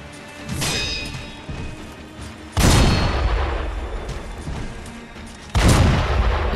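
Three heavy cannon blasts boom out at intervals in Sekiro on PS5, each a loud, sharp report with a long rumbling tail.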